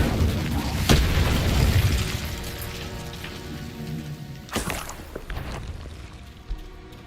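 An Incendio fire spell is cast in Hogwarts Legacy, a whooshing burst at the start followed by a crackling, rain-like roar that fades, with a second sharp burst midway and softer crackles after.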